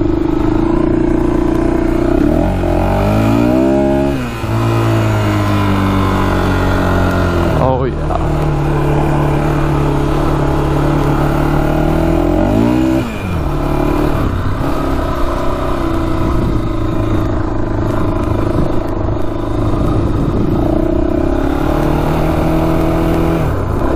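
Honda 400ex ATV engine running steadily on an easy test ride, a continuous loud drone with a few swells and dips in revs, never at full throttle.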